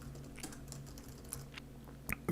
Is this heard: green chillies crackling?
no